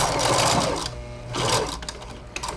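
A sewing machine stitches a patchwork carnival princess crown, running in loud whirring bursts with a brief pause between them, close and alone.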